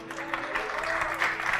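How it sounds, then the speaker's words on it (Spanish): Congregation at a worship service breaks into applause praising the Lord, a moderate burst of clapping rising over a faint lingering voice. "Démosle un aplauso al Señor"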